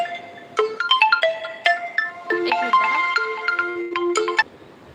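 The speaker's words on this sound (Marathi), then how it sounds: "मला आत्ता कॉल आलेला आणि मला जावं लागते" An incoming call sets off a phone ringtone, a bright melodic tune of quick plucked notes that plays loudly and close for several seconds before stopping, with no voices over it.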